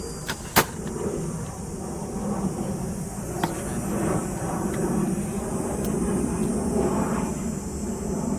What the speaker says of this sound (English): Toronto Pearson Airport is nearby, so yeah, lots of planes come by.